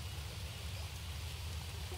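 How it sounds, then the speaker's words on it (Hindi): Rain falling in the survival game Green Hell, a dense, steady hiss of drops on surfaces with a low rumble underneath, constant and fairly loud throughout. "यार ये बारिश भी गलत टाइम पे हो गई, बारिश नहीं होनी चाहिए थी।"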